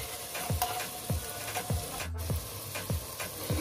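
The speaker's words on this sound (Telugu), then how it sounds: "తర్వాత ఈ పేస్ట్ అంతా పచ్చి వాసన పోయేంత వరకు కూడా ఫ్రై చేసుకోవాలి" Ground paste frying with green chillies in a pan for mutton curry, a low sizzle broken by regular spoon scrapes roughly every half second, close and fairly faint, with no voices.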